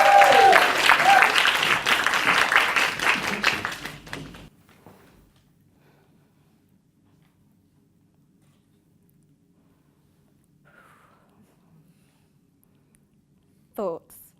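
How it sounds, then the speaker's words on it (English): Audience applause at a live speaking challenge event, a loud burst of clapping for about four seconds that ends abruptly, followed by near silence with a brief faint sound near the end. "Please give a massive round of"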